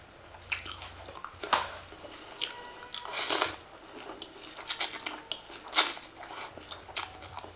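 Crunchy bites and chewing of a sweet mushroom salad with glass noodles and fresh vegetables, heard close up as irregular crisp crunches and moist squishes, with no talk over them.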